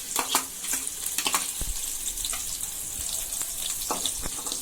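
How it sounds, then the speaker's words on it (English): Chopped onions sizzle in hot oil in a pan, a bright continuous crackle punctuated by sharp spitting pops and a few low knocks, heard up close with no voices. "I am going to put in the onions, the chopped onions which I said."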